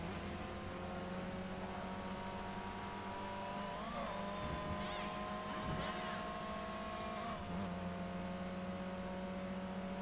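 Revving car engines racing in Midnight Club: Los Angeles, a steady droning roar with rising and falling pitch as gears shift, continuous and upfront under faint game ambience.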